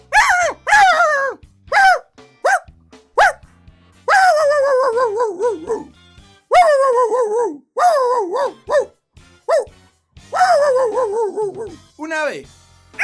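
A human voice imitates a small dog barking, giving a string of sharp yips and longer whining, howl-like barks up close, loud and irregular in rhythm.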